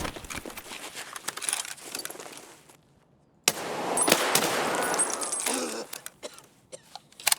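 Loud weapon fire in Escape From Tarkov on the Shoreline map, with sharp shots scattered over the first seconds, a brief lull, then a dense sustained burst and a few trailing cracks.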